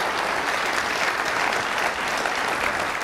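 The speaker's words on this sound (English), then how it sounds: "we're going to give him a round of applause." Steady, dense applause fills the hall for a university system address honouring the Chancellor of SIU Edwardsville, a continuous wash of many hands clapping at an even level throughout.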